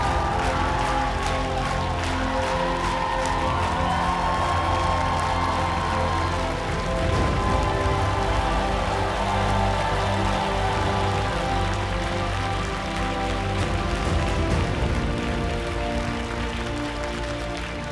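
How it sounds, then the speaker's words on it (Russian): Standing audience applauding and cheering in a talent-show hall after a hula-hoop dance act, a dense, steady wash of clapping under music that lasts throughout. "Смотрите, зал стоит, стоя аплодирует"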